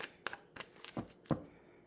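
A deck of playing cards is riffled and shuffled in several quick, close bursts, five or six crisp flurries in a row with short gaps between them.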